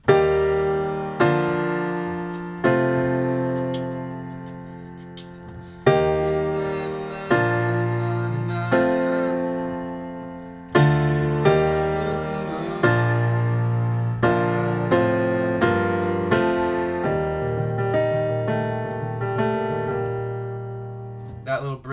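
Piano plays the bridge of a song, a slow, clear progression of sustained chords and notes, each struck and left to ring and decay before the next.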